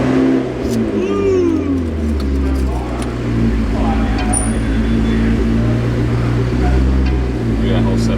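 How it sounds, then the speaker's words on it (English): A 2020 Toyota Supra fitted with an aFe intake starts up and idles with a deep, steady engine drone, a couple of rising revs early on, close and loud throughout. "start engine"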